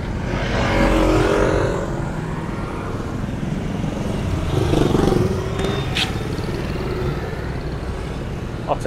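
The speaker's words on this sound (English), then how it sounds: "Lots of traffic also." Street traffic on a busy waterfront boulevard in Dumaguete lined with cafes and restaurants, with cars and motorcycles rumbling past at a steady, fairly loud level, one vehicle swelling closer midway, and a brief high horn-like tone near the end.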